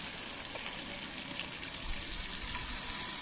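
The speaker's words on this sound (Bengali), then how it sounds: "সেই মশলা ধোয়া জলটা আমি মাংসের ভিতরে দিয়ে দেবো" Spice-wash water pours steadily into a basin of marinated meat, a continuous close gushing splash with no talk.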